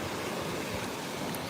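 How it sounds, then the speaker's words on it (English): Mild ocean waves wash gently and steadily, a faint, continuous surf hiss with no distinct breaks and no voices. "The waves are really mild."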